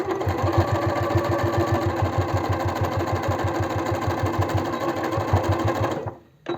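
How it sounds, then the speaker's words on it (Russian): A domestic sewing machine stitches along the edge of a fabric scrap for a zippered cosmetic organizer, running in a fast steady rhythmic chatter close by, then stopping abruptly near the end, with no talk. "Сначала по краю пристрачиваем."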